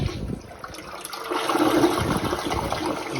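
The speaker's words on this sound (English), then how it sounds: "let's give it a try for a long flush" A hotel toilet with a water-saver setting runs a long flush in a La Quinta Inn room near LAX, a close, loud rushing of water that builds and swirls steadily.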